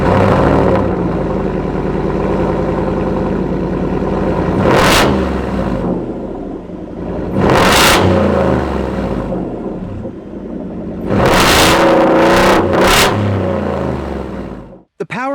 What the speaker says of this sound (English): It sounds good too through its stainless steel catback exhaust.